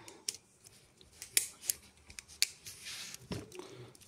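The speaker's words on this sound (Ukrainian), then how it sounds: "Далі це звичайний мультитул, який має набір всіх шестигранників, ну, як звичайно, ножиці, ніж, пилку." A metal multitool with scissors, knife and saw is handled close by, with a run of faint, scattered clicks and snaps as its parts are opened and moved in a quiet room.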